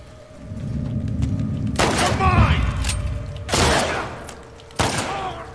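Gunfire in The Last of Us Part 2 at the Serevena Hotel: a sustained rumbling exchange, then two separate heavy bursts, loud and close, with voices speaking under the shooting.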